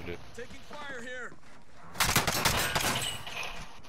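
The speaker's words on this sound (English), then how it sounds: "Taking fire here." Bursts of rapid gunfire in Call of Duty Warzone, a dense volley of several shots after a quieter stretch with brief game voice tones, loud and close.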